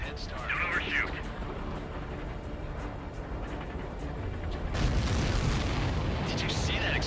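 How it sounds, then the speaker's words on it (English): A supply ship explodes in the combat flight game Ace Combat 7: a wide, rumbling burst swells partway through and lingers over a steady background roar, with faint electronic chirps around it. "Did you see that explosion? Looks like that's one of them down."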